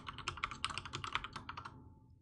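Password typed on a computer keyboard during a crypto wallet security setup, heard as a quick run of crisp, close key clicks with an uneven rhythm and no talk.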